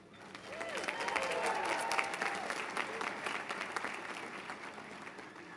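Commencement audience at a graduation ceremony applauding and cheering, swelling quickly into a broad, loud wash of clapping that holds steady and then eases slightly.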